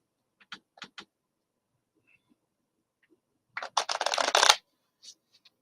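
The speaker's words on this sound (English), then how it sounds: "Right now I am shuffling the 78 tarot cards." Tarot cards, a 78-card deck, are handled in a quiet room, with a few soft flicks and then a short burst of riffling, close and faint.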